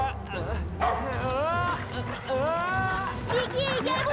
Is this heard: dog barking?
yes